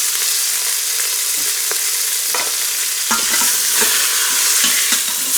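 Onions caramelizing in oil for a beef stew, a loud, continuous close sizzle broken by repeated scraping stirs of the utensil against the pan, with no talking.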